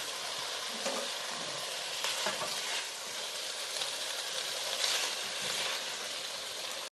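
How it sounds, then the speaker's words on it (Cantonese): Spring onion, ginger and small chili peppers fry over low heat in oil, giving a steady sizzle with occasional brief stirring scrapes, close and alone without talk. "之後我哋先將葱、薑同埋小米辣先煎香佢，細火等佢煎出啲味先。"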